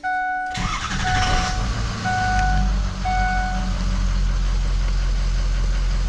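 A few warning beeps, then a 6.0 Power Stroke diesel truck engine cranks and settles into a loud, steady rumbling idle that continues to the end.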